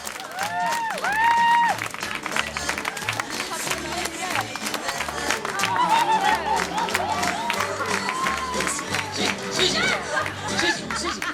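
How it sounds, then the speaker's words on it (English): Crowd at an outdoor sheep show applauds and cheers for Susie, a small Southdown ewe, with steady clapping mixed with chatter and voices throughout, some whistle-like calls and low rumbling underneath. "Let's have a big clap for our little sheep."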